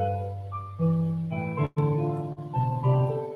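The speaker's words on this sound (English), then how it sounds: "So what I'm doing here is I'm essentially playing piano music" Synthesized piano plays a slow sequence of sustained notes and chords, with a brief gap midway, clean and close with no voices.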